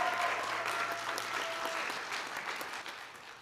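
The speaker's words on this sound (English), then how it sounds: "can we just have a big round of applause for everybody who came out today?" Audience applause at an awards ceremony for a school tech competition, a steady wash of many hands clapping throughout, fading slightly toward the end, with faint voices underneath.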